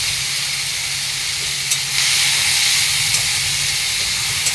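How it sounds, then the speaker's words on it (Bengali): Loud, continuous hissing sizzle of washed dried fish frying in a hot pan, steady throughout with a few brief pops. "শুকা মাছগুলো গরম জলে ধুয়ে নিয়েছি এবারে এগুলো ভেজে নিই"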